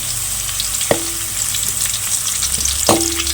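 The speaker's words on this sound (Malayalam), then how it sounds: "അണ്ടിപ്പരിപ്പും മുന്തിരിയെല്ലാം കൂടി ഇട്ട് വെക്കണം." Cashews and raisins sizzle in hot ghee for Kerala-style ghee rice, a steady bright frying hiss with two sharp clinks of a spoon against the pan about two seconds apart.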